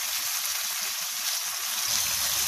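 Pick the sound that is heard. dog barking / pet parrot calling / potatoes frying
potatoes frying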